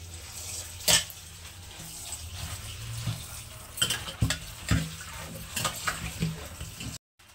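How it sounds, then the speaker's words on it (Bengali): Taro leaves being washed by hand in water, with intermittent splashing, swishing and dripping, a few sharper sloshes and handling knocks, close up and without talk. "কচু পাতাগুলো খুব ভালো করে ধুয়ে নিচ্ছি।"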